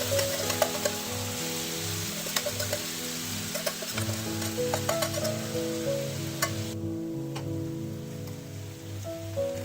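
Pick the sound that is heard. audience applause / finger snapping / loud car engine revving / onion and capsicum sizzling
onion and capsicum sizzling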